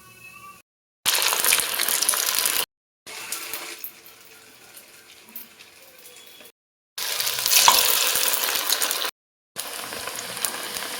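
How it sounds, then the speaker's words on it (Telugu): Corn vadas deep-frying in hot oil, a loud bubbling sizzle in several separate bursts with short silent gaps between them. "ఇట్లా గోల్డెన్ కలర్ వచ్చే వరకు నూనెలో వేయించుకోవాలి."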